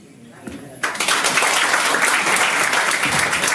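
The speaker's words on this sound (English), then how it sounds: "Give her a better hand clap." Audience clapping at a farewell event for a Kenyan diplomat; after a brief quiet start, loud, dense applause bursts in and carries on steadily to the end.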